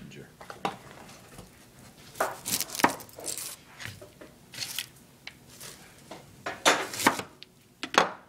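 A knife chops fresh ginger into coarse strips on a cutting board, irregular crisp thuds and taps in short bursts, fairly close, with a voice talking in between.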